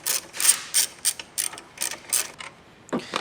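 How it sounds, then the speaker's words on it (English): A hand ratchet loosens a 12mm bolt on a battery bracket of a Toyota Tacoma or 4Runner, rapid bursts of clicking pawl strokes in an uneven rhythm, close and alone, ending with a brief metallic clunk. "You got a 12mm bolt right here, and then you have one or a nut right down on this side. So let's go ahead and remove this."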